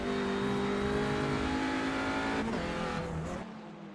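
Touring race cars at Snetterton in a racing video game howl at high revs, loud and steady with shifting engine pitches, before easing slightly near the end; no voices.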